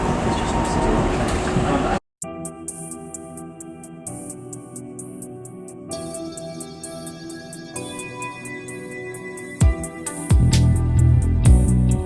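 A Greater Anglia train running through the Stratford and Canary Wharf area, recorded from the rear carriage: steady loud rumble with rhythmic clicking over the rails and a sudden cut near the start, a brief voice nearby.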